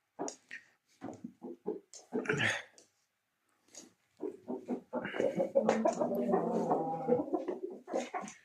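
A backyard rooster and hens give a few clucks and then a longer, full-throated crow close by, set among bursts of conversational talk between people.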